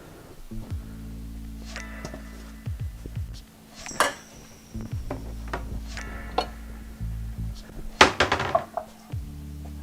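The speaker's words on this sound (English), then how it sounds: "Clean the wok while it's hot" A hot wok is cleaned after cooking noodles: metal scraping and clanking of utensil against the pan, with scattered sharp knocks and clatters over a low steady hum.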